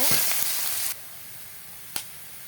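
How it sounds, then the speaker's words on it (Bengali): Chopped onion with a little turmeric hits hot oil for a pabda fish curry, a loud sizzling burst for the first second that drops to a quiet background hiss, with one sharp click later. "তেল গরম হয়ে গেছে এবার দিয়ে দেব পেঁয়াজ কুচি দিয়ে দেখতে সামান্য হলুদ এবার পেঁয়াজটা ভালো করে ভেজে নেব"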